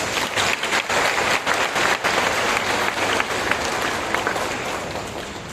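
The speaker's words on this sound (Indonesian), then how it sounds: "Beri tepuk tangan." Congregation applauding in a Catholic parish church during a priestly ordination thanksgiving Mass, a steady, dense wash of clapping filling the room at moderate loudness throughout.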